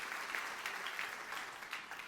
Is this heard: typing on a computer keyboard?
no